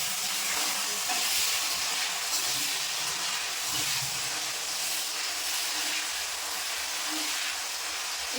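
Raw banana chips fry in hot oil with a steady, loud, dense hiss and crackle that runs unbroken throughout, with no talk over it.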